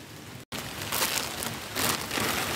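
Heavy rain pours down steadily at a wet bushcraft campsite, a dense hiss that swells in slightly heavier bursts after a momentary break at the start.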